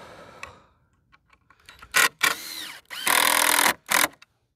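A power drill drives a screw into pallet wood in several loud bursts, each a second or so long, separated by short pauses and preceded by quieter clicks and knocks.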